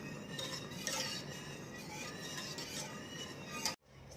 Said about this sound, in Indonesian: Aduk terus perlahan-lahan